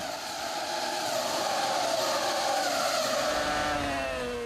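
A Renault Formula 1 car with rear tyre problems racing at Monaco, its high engine whine sweeping and shifting pitch continuously, loud and close with a second engine tone blending in near the end.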